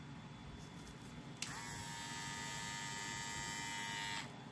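Budget electric hair clippers switch on partway through and run with a steady, high buzzing whine for about three seconds before cutting off, close and alone against a quiet room.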